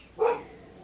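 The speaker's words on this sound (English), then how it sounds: "Why is she barking?" A single short bark from a female dog indoors, moderately loud and close, standing alone against a quiet background.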